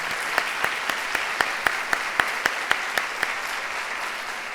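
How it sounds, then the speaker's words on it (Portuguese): Applause from an audience at a teachers' education event at MASP in São Paulo, honouring a teacher and her school, with steady clapping and a few sharp individual claps standing out. "Eu quero pedir uma salva de palmas para a Carolina e para essa escola."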